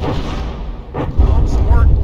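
Battleship main guns fire and their shells impact in From The Depths, a series of deep booms and rumbling thuds that grow heavier toward the end, under a commentator's voice.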